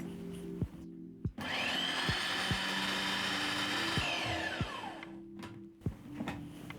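A food processor blends a paprika marinade for oven-roasted tilapia, its motor whirring loudly and steadily for about four seconds before winding down, framed by a few sharp knocks and clatters.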